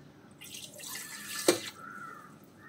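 Water is poured into a pan of Kollam-style parava fish curry, a soft liquid splash and trickle lasting about a second, with one sharper splash in the middle. It sounds close and moderately loud, and nobody speaks.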